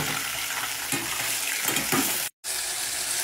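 Chunks of meat fry in hot oil for a Balochi iftar dish, giving a steady, dense sizzle with a few soft stirring scrapes, broken by a brief gap of near silence.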